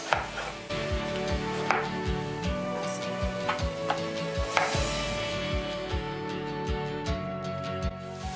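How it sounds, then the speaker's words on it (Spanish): Knife chopping potatoes into small pieces for a thick garlic soup, steady rhythmic thuds against a board about every half second, close and clear, with faint frying in the background. "vamos a picar las papas en ocho pedacitos"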